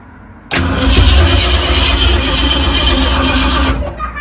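A 1966 Ford Mustang engine, left unstarted for 30 years, cranks briefly after a quiet moment, then catches and runs at a loud, rough idle up close before it eases off.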